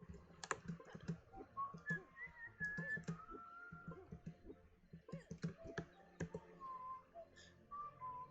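A person whistles a hesitant tune in short wavering phrases, close and fairly quiet, with keyboard typing and mouse clicks tapping underneath.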